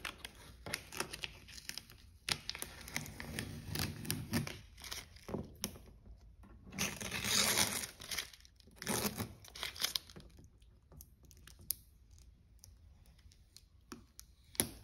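Painter's tape is peeled off the body of a BMW X5 after fitting an M Sport fender badge, with irregular bursts of tearing and crinkling rips, some longer and louder, separated by short quiet pauses.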